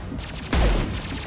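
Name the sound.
gunfire in the video game Mass Effect 2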